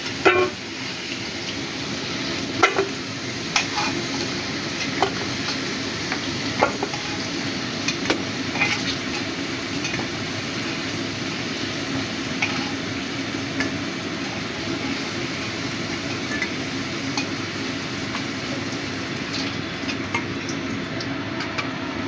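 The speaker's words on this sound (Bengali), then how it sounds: "আলুগুলো ভাজা হয়ে গেছে। এবার আমি আলুগুলো তুলে নিচ্ছি।" Steady sizzling of potatoes frying in hot oil, with occasional clinks and scrapes of a utensil throughout, no talking.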